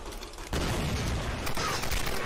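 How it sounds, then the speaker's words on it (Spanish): In the video game Tomb Raider, a loud gunshot cracks for a headshot, followed by a second sharp report a second later over rumbling, mechanical game ambience. "Disparo mortal en la cabeza"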